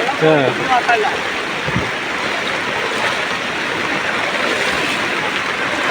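Flood water rushes through the Kondotty bus stand in Malappuram, Kerala, in a loud, continuous roar, with a voice speaking briefly at the start.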